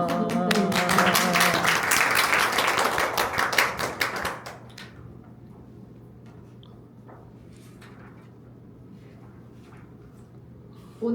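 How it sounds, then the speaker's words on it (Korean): Audience applause at the opening of a seminar on virtual convergence education rises briskly for about four seconds, then dies away, leaving a quiet room with faint scattered taps. "큰 박수 부탁드립니다."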